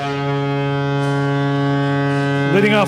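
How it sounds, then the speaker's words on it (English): A loud, sustained ballpark foghorn blast at an Oklahoma City Dodgers stadium, with a deep, steady tone holding throughout, shifting slightly at the very end. "that foghorn. Yep, that means the fans are coming in the building."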